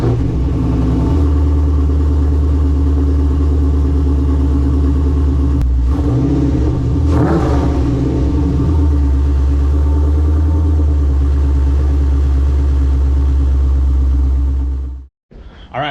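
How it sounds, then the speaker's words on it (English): An LS-swapped Nissan 350Z with a new exhaust runs steadily, its deep engine rumble droning loud and close for many seconds before cutting off abruptly near the end. "All right, so the exhaust sounds really good."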